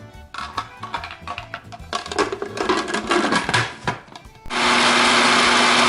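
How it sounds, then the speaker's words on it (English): Biscuits being crushed into fine crumbs in a food processor, first a rattling, grinding clatter of pieces hitting the blades, then a smooth, loud, steady whir as the crumbs turn fine. "into our food processor, we're gonna place our biscuits, and we're going to crush them until they resemble a fine crumb"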